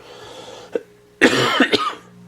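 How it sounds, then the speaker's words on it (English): A man with a cold coughs: a faint catch first, then a harsh, wet cough burst of several quick pulses, close and alone. "Excuse my cough again, still battling that cold."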